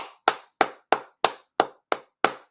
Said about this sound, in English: So we got to give Obadeli Kambon a hand clap,